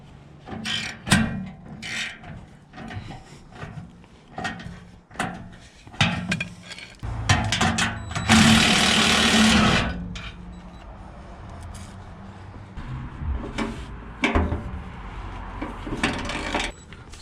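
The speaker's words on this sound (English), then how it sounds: "start prying them loose with the breaker bar" A breaker bar works lug bolts loose on a 2008 Toyota Sequoia, giving irregular metallic clanks, knocks and ratcheting scrapes with a sustained grinding rasp in the middle, close and moderately loud.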